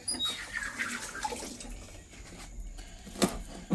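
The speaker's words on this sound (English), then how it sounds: "Wash your vegetables thoroughly, please, and so you can get off all the residue off it" Running water splashing over vegetables (red pepper and scallion) as they are washed for a brown stew chicken, a steady close stream with brief louder splashes near the end.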